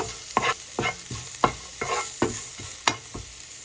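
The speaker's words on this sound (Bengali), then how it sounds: "রসুনটাকে কুচি করে আমি জাস্ট একটু তেলে নেব, যাতে কাঁচা গন্ধটা না থাকে।" Chopped garlic frying in a little oil sizzles steadily, while a spoon scrapes and stirs the pan in a regular rhythm of about eight distinct strokes.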